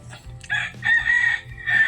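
A rooster crows loudly and close by, repeating its call several times in quick succession with no talking.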